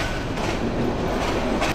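The Chattala Express pulls out of Airport railway station bound for Kamalapur, a close, steady rumble of rolling carriages with a faint clickety-clack.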